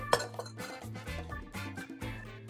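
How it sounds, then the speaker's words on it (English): Glass and ice clink brightly as soda water tops off a mixed drink, a few sharp chimes over a soft fizzing pour, close and fairly quiet. "we're gonna top it off with a little bit of soda water"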